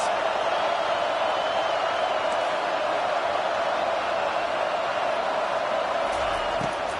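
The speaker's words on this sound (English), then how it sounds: "Listen to this crowd just shaking the girders of this place trying to help their defense" A loud, steady roar from a packed football stadium crowd during a Penn State versus USC game, a dense wash of noise holding without a break for several seconds.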